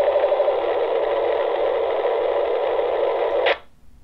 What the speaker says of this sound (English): If someone with an analog-only radio is on the same frequency and tries to listen to you, then they'd just hear the digital data of your transmission.